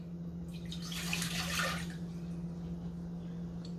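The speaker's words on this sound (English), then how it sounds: "So I'm going to add my water here, like I said." Water pours steadily into a cooking pot on a home stove, a close splashing rush that swells in the middle and then eases, over a constant low hum, with no talking.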